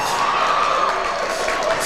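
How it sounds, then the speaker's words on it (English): Basketball crowd in a college men's game between Southern Utah and Utah Valley cheering and shouting, a steady roar of many voices with a rising whoop, close and loud throughout. "The crowd is starting to feel it"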